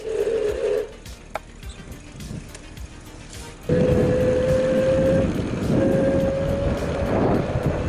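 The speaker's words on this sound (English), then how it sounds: "I'm going to put it in throttle mode, and there will be no pedaling. It will be just full throttle." An ANCHEER electric bicycle runs at full throttle with no pedalling. The hub motor gives a steady whine that cuts out briefly and then returns louder, over rushing wind and road rumble.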